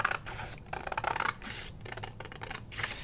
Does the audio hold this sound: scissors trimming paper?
yes